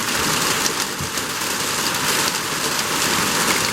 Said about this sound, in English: it looks like the rain's going to come anyway